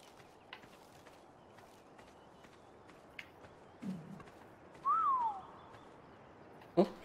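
A short rising-then-falling whistle from a game character in Ark: Survival Evolved rings out once amid quiet footsteps and faint thuds, with a few soft clicks around it.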